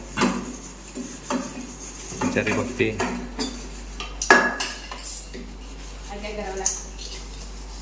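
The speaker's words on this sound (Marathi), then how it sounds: "भांडी घासते" Dishes, pots and utensils being scrubbed and rinsed at home in the Konkan, with repeated clinks and clatters of metal throughout and people talking over them.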